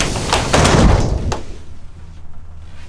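A door slides along its track inside a 2021 Grand Design Imagine travel trailer with a rolling rumble and a couple of knocks, then settles, leaving a quiet room hum.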